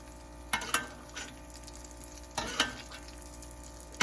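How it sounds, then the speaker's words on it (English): Butter basted onto hot broiled crawfish-stuffed salmon crackles in two short, close sizzling bursts separated by a quiet stretch of low hiss. "I'm just gonna take some of this butter and baste it right on top."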